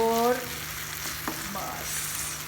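A spoonful of sugar being stirred into softened bananas in a frying pan, a soft scraping stir over a low steady sizzle, with a brief tonal sound at the start.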